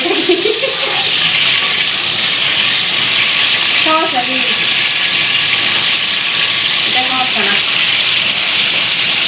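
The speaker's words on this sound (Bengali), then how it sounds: "আর বাইরে বৃষ্টি হচ্ছে" Steady rain falls outside as a constant, dense hiss throughout, while people talk now and then over it.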